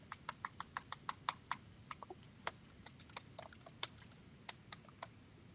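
Rapid clicking of keys on a computer keyboard, a close, steady run of separate taps with brief pauses and no voices.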